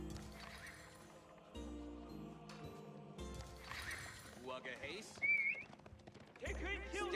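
Horses in a real-time strategy video game match, with quiet hoof clip-clops and a whinny mixed into busy game music and effects, all at a low level with no voice over it.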